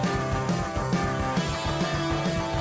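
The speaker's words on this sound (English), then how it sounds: "It's once again a sped-up waltz." Dense, driving heavy metal by Ghost from the album Opus Eponymous, with distorted guitars and pounding drums in a fast triple-time lilt, loud and continuous throughout.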